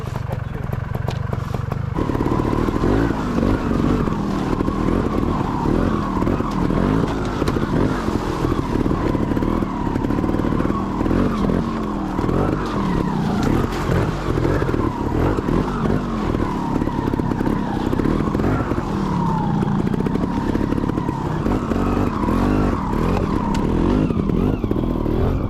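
A trials motorcycle rides and revs loudly and close by for the whole stretch, the engine rising and falling through rough throttle changes, while people talk over it in places.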